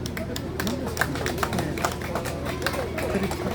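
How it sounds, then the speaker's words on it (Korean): A Korean ceremony audience applauds a former National Assembly vice-speaker, with steady, dense clapping throughout amid crowd murmur and a voice talking over it. "박수 부탁드립니다."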